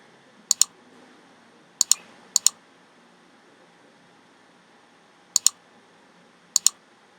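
Sharp paired clicks from a computer mouse while a Google search for Hindi fonts is entered, five quick double-clicks spaced irregularly over a faint hum, close and crisp with no talk.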